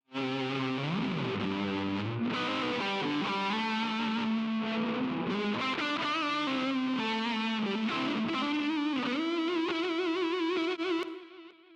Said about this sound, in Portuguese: toda a distorção só do cabeçote